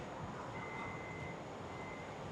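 Power sliding door of a 2017 Toyota Vellfire 2.5 Z G Edition closing, with a faint, steady electronic warning beep tone held for about a second and a half over low background hum; no one speaks.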